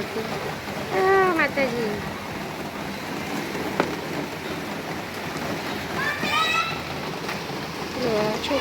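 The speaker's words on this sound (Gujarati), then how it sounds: "વધારે પડતો વરસાદ પડવા લાગ્યો છે" Heavy monsoon rain pours steadily outdoors, a constant broad hiss of water running underneath intermittent voices and a child calling out.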